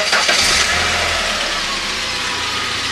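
A magneto-ignition engine idles at a fairly high speed, giving a steady, continuous running drone that stays close and loud throughout with no talking.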